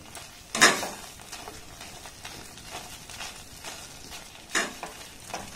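A thickening sweet mixture is stirred in a pan over a low flame, giving soft scraping and a couple of sharper spatula swipes against the pan, with no talking.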